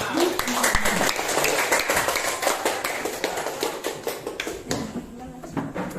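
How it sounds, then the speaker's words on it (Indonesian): A grade 8 class claps for a student group after their presentation. The clapping is close and uneven, with sharp individual taps, and it thins out toward the end. "Kita tepuk tangan untuk kelompok 6."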